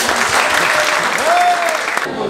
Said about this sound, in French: Et je vous applaudis vous en fait.